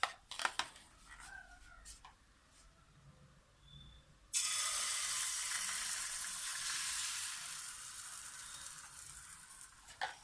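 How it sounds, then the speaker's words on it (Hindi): An egg omelette is poured into a pan with a little oil over a low flame. After a few clanks, a loud, steady frying sizzle starts suddenly and continues up close. "अब पैन में थोड़ा सा बिल्कुल ऑयल डालूंगी मैं और इसके साथ ही मैंने जो ऑमलेट बनाया था वो ऑमलेट हम इसमें डाल देंगे"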